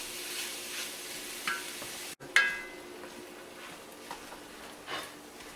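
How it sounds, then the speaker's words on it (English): Half a pound of ground turkey sautés in a pot, giving a low, steady sizzle with occasional light scrapes and taps from stirring, and a brief dropout partway through. "we're just going to do half a pound and saute that up"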